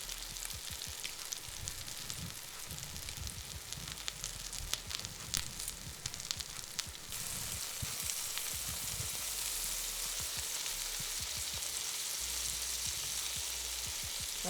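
Panko-breaded shrimp fry in a pan of hot oil, a continuous bright sizzle with scattered crackles and pops, steady throughout and free of any voices.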